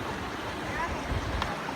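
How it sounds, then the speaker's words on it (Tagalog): River waves rush and wash near Malingin Rocks in Liloan, Cebu, a soft, continuous broadband flow heard fairly quietly on a trekking route. "Yung pag naririnig mo yung yung alon ng river, nakakatakot po."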